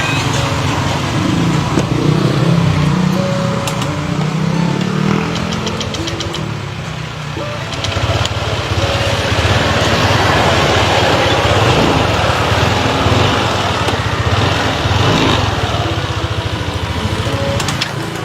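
A motorcycle engine idles steadily up close with a rough, knocking chug, running throughout with slight variations in rhythm.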